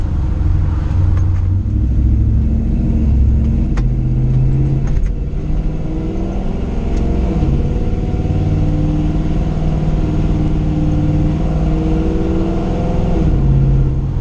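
A Hemi-powered car with an automatic transmission drives steadily, its engine droning loud and close throughout while the pitch rises and falls through gear changes.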